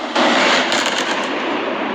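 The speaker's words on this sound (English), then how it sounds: "You can even hear an explosion." A loud, sudden explosion in amateur night-time footage of a downtown city street, bursting in abruptly and trailing off into a sustained, noisy rumble that continues to the end.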